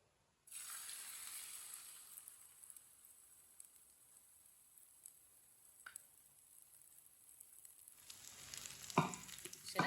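Beaten eggs poured into hot oil in a pan, a sudden sizzle that settles into a soft continuous frying hiss, with scraping and clattering bursts near the end.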